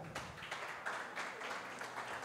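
Audience at an interschool quiz competition semi-final claps in a dense, continuous patter of applause, moderately distant and steady throughout the short stretch, with no one speaking over it.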